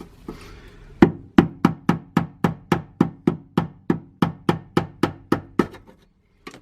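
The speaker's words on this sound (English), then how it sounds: "Take our screwdriver and hammer." Sharp metallic hammer strikes on a screwdriver loosening a fuel pump locking ring, about sixteen evenly spaced blows in a steady rhythm, loud and close, with no talking.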